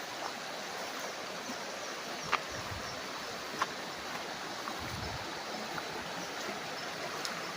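A river flows in a steady, soft rushing wash beside a farm lot in Real, Quezon, with a few faint knocks and low thumps breaking through the constant noise.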